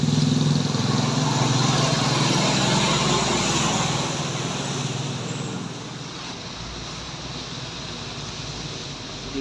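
A bus rolls past on a city road in Aceh, its broad engine rumble steady and fairly close at first, then easing and fading somewhat as it moves away.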